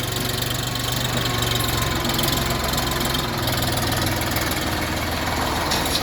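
A 2023 tractor engine idles with a steady, knocking diesel chug, loud and close, running without pause and with no voices.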